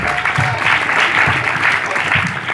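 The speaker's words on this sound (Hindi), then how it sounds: "आइए खुदा के कलाम के लिए हम जोरदार तालियां देंगे।" Loud, sustained applause from a church congregation fills the space, a dense steady roar of clapping with no pauses.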